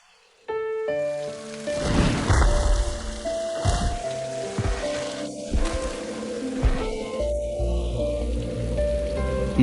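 Heavy rain pours down outside in a steady, loud hiss that starts abruptly and continues throughout, with faint tonal music underneath.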